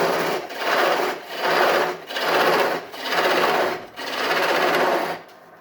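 A wood lathe turning a spinning top while a skew gouge shaves the surface for a fine finish gives a close, steady scraping rasp in about five even strokes, each swelling and fading with short pauses between them.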